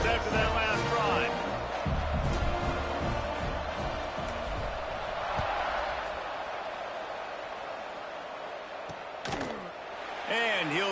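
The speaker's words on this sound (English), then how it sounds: "this crowd is feeling themselves after that last drive" A stadium crowd roars steadily in a college football video game, a broad continuous wash of cheering under a commentator's voice talking, with a few sharp thuds near the end.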